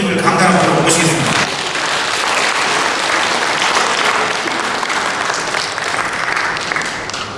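Warm, sustained applause from a seminar audience welcoming a professor to the stage, dense and close, fading slightly toward the end, with a voice speaking briefly at the start.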